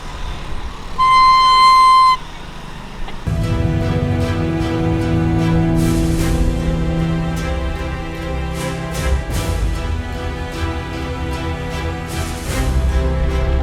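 A Maruti Ertiga's engine hums steadily inside the car, with road rumble and a brief horn-like tone near the start.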